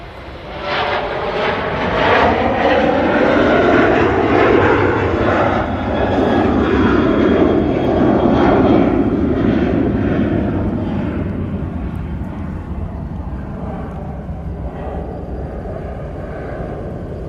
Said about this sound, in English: we do have the Sky Team 737 now on the roll. Come on to Amsterdam.